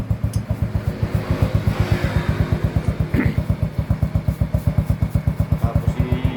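A Yamaha Mio S40 scooter engine runs steadily with a fast, even putter, and a noisy CVT clutch rattles in time with it. The sound is close and loud and holds constant throughout.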